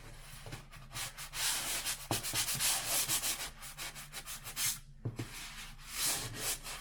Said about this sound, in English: sand it out.